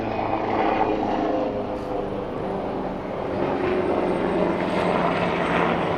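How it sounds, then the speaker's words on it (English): A helicopter drones steadily overhead, a constant low rotor and engine rumble that stays loud and unbroken throughout, with no speech. "That's our private helicopter coming to pick us up."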